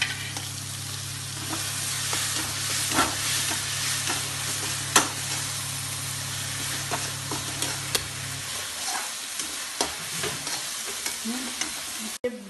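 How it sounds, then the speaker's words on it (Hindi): Garlic ginger paste frying and being stirred in a pan while masala idli is cooked, a steady close sizzle with scraping clicks of a spoon, the sizzle dropping away near the end. "और लहसुन अदरक की पेस्ट डाल देंगे 1 चम्मच।"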